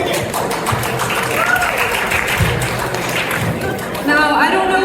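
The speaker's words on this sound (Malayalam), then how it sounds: "Let's give them a big round of applause to match their energy." Crowd applause after a dance performance at an Onam celebration in Dallas, Texas, steady clapping under a voice talking over it.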